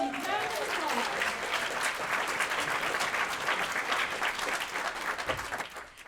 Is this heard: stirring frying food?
no